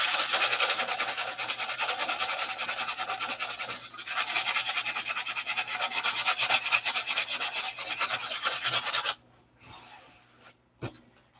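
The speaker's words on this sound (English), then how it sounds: "now I'll sand it up square later" A piece of wood being sanded square by hand: a steady, close, rasping back-and-forth scrub for about nine seconds, then it stops, leaving a few faint scrapes and handling noises.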